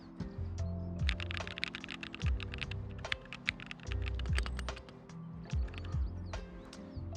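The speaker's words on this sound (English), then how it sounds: "I've got my comfy keyboard." Rapid clicking keystrokes on a computer keyboard come in bursts, close and crisp, over a low tonal game soundtrack with repeating synth notes.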